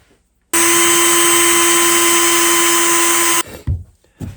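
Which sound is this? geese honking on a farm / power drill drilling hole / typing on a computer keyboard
power drill drilling hole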